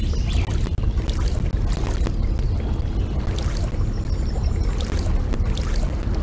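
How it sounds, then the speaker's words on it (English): Fast-flowing river rapids in the Canoe Quest kids' game, heard as a loud, steady rushing and churning of water that fills the whole stretch without pause. "Look at how fast the water moves over there"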